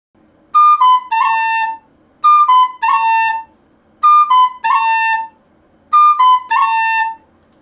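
Tin whistle playing the same short phrase four times, with a cut ornament flicking onto the notes. Each bright, clear phrase is separated by a brief pause, and no one speaks.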